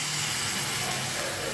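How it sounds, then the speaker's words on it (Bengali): Water poured into a hot pan of fried bottle gourd leaves and vegetables gives a loud, steady, close steam hiss that fills the whole moment without talk. "এবার আমি এতে জল দিয়ে দিচ্ছি।"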